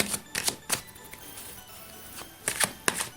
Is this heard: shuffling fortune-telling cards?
yes